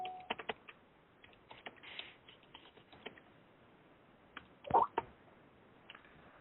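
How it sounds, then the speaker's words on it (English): Someone else types on a computer keyboard, producing scattered quiet key clicks in uneven bursts with a louder clatter near the end, faint and somewhat distant with no talking. "That's not me typing, it's somebody else."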